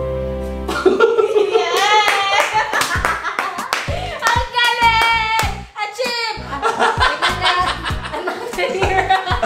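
A studio audience claps along to a spoken word poetry challenge, sharp rhythmic handclaps rising and falling across the stretch, mixed with chuckles, laughter and people talking close by.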